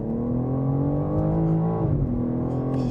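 A fast all-wheel-drive sports car, either a BMW M4 or a Porsche 911, accelerates hard with a steady, loud engine drone that climbs in pitch, dips briefly at a gear change, then pulls on again.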